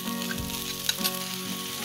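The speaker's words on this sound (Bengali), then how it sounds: "এবার এর মধ্যে জলপাইগুলো দিয়ে দিতে হবে।" Olives drop into melting jaggery in a pan, setting off a steady, soft sizzle with a few small pops, heard alone.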